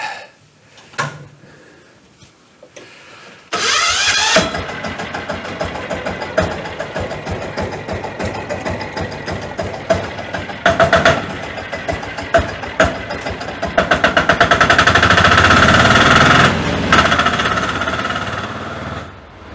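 A motorcycle engine being prepared for military use starts up and idles with a loud, steady, knocking chug, rising slightly near the end, after a few quiet seconds of handling noises.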